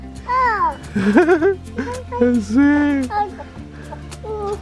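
Chickens cluck nearby while a small child babbles and chatters over them, the bird noises and voice overlapping throughout.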